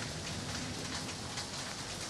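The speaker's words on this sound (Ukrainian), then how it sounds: "щоб дощ перестав падати" Steady rain falls on a city street during an outdoor photo quest, a dense, even hiss of drops on hard surfaces that holds constant throughout, with no voices.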